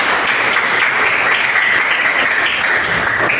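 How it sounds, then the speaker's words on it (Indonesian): Applause from a classroom of pupils, a steady dense wash of many hands clapping at once that holds at an even level throughout, with no voices over it. "Tepuk tangan untuk kita semua ya."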